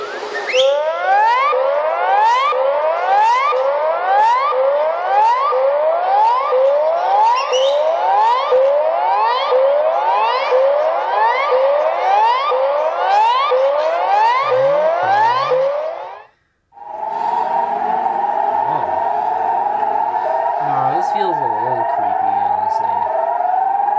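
A tsunami emergency alert siren wails in a loud, regular rising-and-falling cycle, repeating steadily, then breaks off briefly and resumes with a slightly altered tone.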